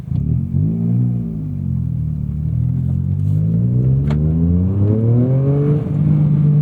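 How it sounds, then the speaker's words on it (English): A Toyota GR Corolla engine revs up and down in steady, loud sweeps as the driver blips the throttle through rev-matched downshifts, the engine note rising and falling continuously under a constant road rumble. "We're going to disable IMT so we can rev match our own downshifts."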